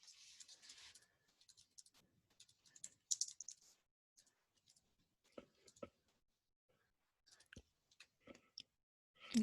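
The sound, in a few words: typing on computer keyboard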